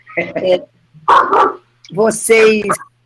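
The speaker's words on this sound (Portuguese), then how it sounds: "o meu cachorro falando até logo também" A dog barks several times close by during an online event, giving short sharp yips and barks in irregular bursts that stand out loudly from the quiet background.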